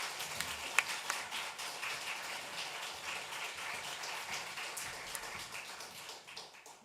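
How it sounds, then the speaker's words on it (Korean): A church congregation at an Easter Sunday service applauds to welcome a visiting missionary preacher, a soft, fairly distant patter of many hands clapping steadily throughout. "이제 목사님 나오실 때 우리 박수로 환영하도록 그렇게 하겠습니다."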